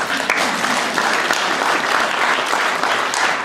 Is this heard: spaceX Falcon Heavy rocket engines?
no